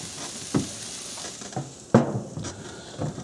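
Barbecue meat coated in sauce cooking on an outdoor grill gives a soft, steady sizzle, broken by a few scrapes and knocks, heard up close with no talking.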